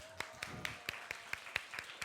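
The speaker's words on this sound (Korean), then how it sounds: "해나에게 박수를" Scattered applause from a small group at a winter camp evening sermon, about ten distinct claps spread unevenly over two seconds, fairly quiet and a little distant, with no talking.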